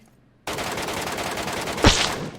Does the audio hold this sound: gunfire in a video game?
yes